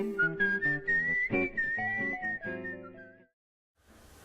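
A person whistles a bright, wavering melody of several connected notes, loud and close with no accompaniment, then breaks off into brief silence.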